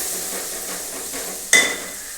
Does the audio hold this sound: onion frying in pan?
yes